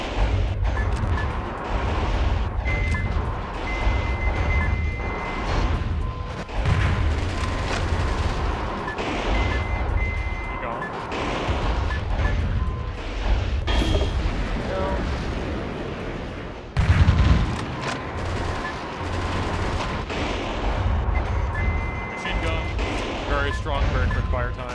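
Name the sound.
weapon fire in the video game Metal Wolf Chaos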